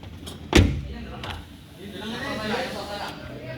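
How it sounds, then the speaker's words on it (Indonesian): A car door is swung and shut with one firm slam near the start during a routine service check of its hinge and stopper, followed by softer mechanical rustling while a person speaks nearby. "Lalu kita cek engsel dan stopper door."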